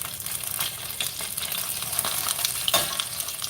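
A sausage and cabbage stir fry sizzles steadily in plenty of oil, with a dense, close crackle and occasional louder pops as the food is stirred.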